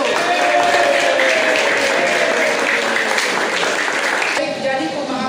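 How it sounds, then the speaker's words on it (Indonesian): A secondary-school class in an Indonesian civics lesson bursting into applause, a dense, fairly loud patter of many hands clapping together for several seconds in a classroom. "Bagus, tepuk tangan dulu."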